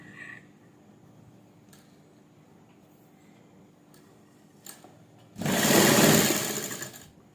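A sewing machine stitches a fabric strip onto a simple suit, running in one loud, fast, continuous burst of about two seconds after a quiet stretch of faint handling clicks.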